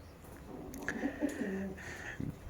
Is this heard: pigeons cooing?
yes